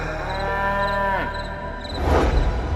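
A carabao, or water buffalo, lows in the countryside at night. The single drawn-out moo is loud and close, with a falling tone that ends in a rougher breathy grunt, and no one speaks over it.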